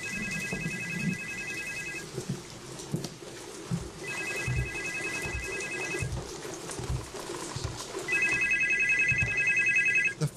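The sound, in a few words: telephone ringing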